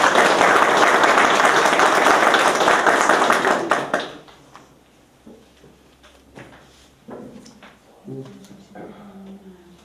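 Assembly audience clapping to approve a proposal at an institute's founding meeting, a loud dense burst of applause for about four seconds that cuts off abruptly, followed by quiet room noise and a few scattered taps and voices.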